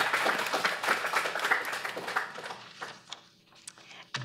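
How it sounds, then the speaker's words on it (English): An audience at a panel discussion on green jobs and social justice claps together, a dense burst of applause that thins out and fades near the end. "we clap for everybody"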